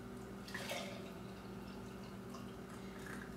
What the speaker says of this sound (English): And then I just pour them in, pour my juice in, of course.